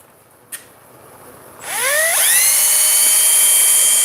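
A small 9-volt drill starts after a click, whines up to speed with a rising pitch and then holds a steady, loud, high motor tone.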